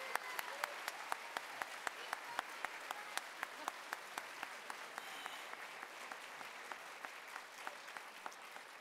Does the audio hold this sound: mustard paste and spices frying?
no